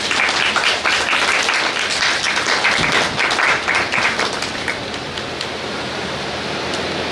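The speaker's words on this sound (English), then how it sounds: "Please give yourselves a round of applause and your teachers and staff who have done so." Students and teachers visiting a chocolate museum and heritage complex are applauded, a dense wash of clapping that thins and softens after a few seconds.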